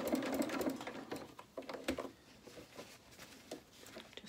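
A sewing machine stitches along the underside of a shirt cuff in short uneven bursts of rapid needle clatter, close and fairly quiet, with pauses between runs.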